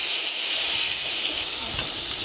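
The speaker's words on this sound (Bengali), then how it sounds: "মাছগুলো এক পিঠ ভাজা হয়ে গেছে, এখন উল্টে দিই।" Fish frying in a pan after being flipped to cook the second side, a steady close sizzle and hiss of hot oil with no talk over it.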